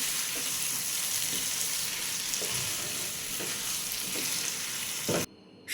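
A steady hiss of sizzling oil in a frying pan as tomato goes in for a vegetarian papaya and mung bean dish, with a few soft stirring knocks, cutting off abruptly near the end.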